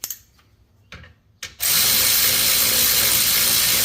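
A ratchet tightens a rear brake caliper bracket bolt on a Chrysler 200, giving a few sparse, close mechanical clicks before a loud, steady broadband rush takes over for the rest of the clip.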